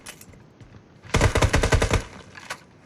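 Video game gunfire erupts as a rapid automatic burst of about a dozen loud shots lasting roughly a second, followed by a single isolated shot after a short pause, over a faint ambient game background.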